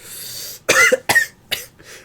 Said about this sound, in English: Just keep coughing like a comma.